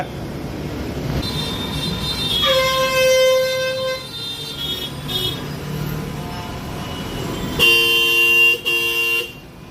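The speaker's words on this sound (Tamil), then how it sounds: "இப்போ ஓப்பன் பண்ணிவிட்டு க்ளோஸ் பண்ணலன்னா உங்களுக்கு வந்து அந்த அலாரம் சிஸ்டம் மாதிரி அடிக்கும்" Door-open alarm on a brand-new electric city bus in Chennai, sounding as steady tonal beeps and stepped electronic tones over a low engine and road rumble, with a louder burst of the alarm near the end.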